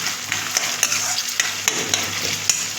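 Fish oil crackles and sizzles in a pan with large onion pieces and split green chillies, a steady bright hiss broken by sharp spatula clacks and scrapes at irregular intervals.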